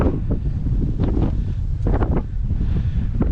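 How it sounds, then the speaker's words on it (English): Strong wind on an open clifftop buffets the microphone in gusty, roaring bursts, with a few sharper rustling peaks. "It's a bit windy, but we're outside, so what can I do?"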